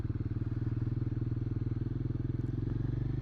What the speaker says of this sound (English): I don't know if you can hear it, but that Zard exhaust does sound quite nice